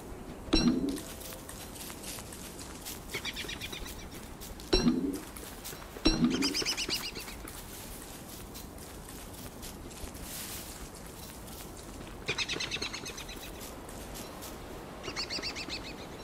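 Birds in the survival game Don't Starve Together: several brief wing-flap bursts and faint high chirps scattered over a quiet ambient game backdrop, with no talk.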